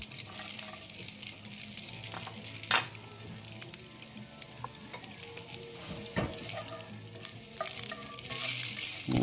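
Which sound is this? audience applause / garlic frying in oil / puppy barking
garlic frying in oil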